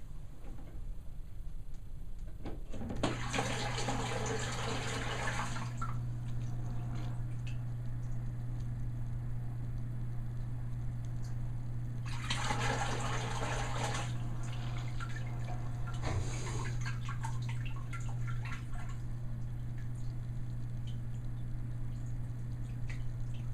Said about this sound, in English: I'm going to turn in the plug in the Syncra pump first.